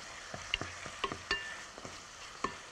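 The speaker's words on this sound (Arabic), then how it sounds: "اشوح بقى الجمبري" Shrimp seasoned with salt and black pepper sauté quietly in a pan, with soft sizzling under a series of sharp utensil scrapes and taps as they are stirred.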